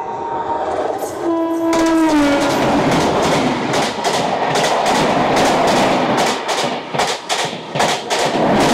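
A long-distance train on the Santragachi to Puri route sounds a loud horn, then roars past near a station with rapid, rhythmic clickety-clack of wheels on rail joints.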